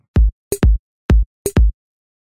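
Punchy drum beat: a deep kick alternating with a snappy snare hit, two bars of a simple steady pattern, loud and dry.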